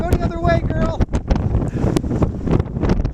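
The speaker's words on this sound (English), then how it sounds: "Wind gusts up to 65." Strong 65 mph wind gusts batter the microphone during a dust storm in Van Horn, Texas, a loud, buffeting roar under a close voice talking throughout.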